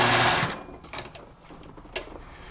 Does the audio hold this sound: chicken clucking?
no